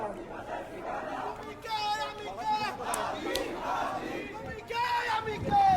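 A large street crowd in Bangladesh chanting and shouting together in unison, a loud dense roar of many voices rising in repeated waves throughout.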